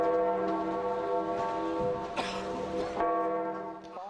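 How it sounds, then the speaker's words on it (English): The Vatican's funeral bell tolls in St. Peter's Square, a loud, deep ringing with long sustained overtones, joined by a crowd's rustle and a brief burst of noise midway. "the Vatican's funeral bell was rung"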